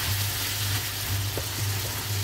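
Taco filling of meat and melted cheese simmering and bubbling in a pan, a steady dense sizzle with a low rhythmic hum and a couple of faint stirring taps, close and continuous.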